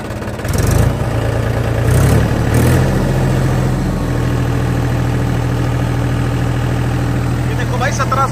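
Mahindra tractor engine with a rotavator attached, revving up to around 1700 RPM and settling into a steady loud drone, with brief surges early on and people talking over it.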